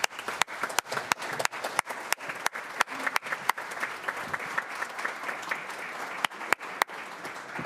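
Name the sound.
audience applause for Maple High School group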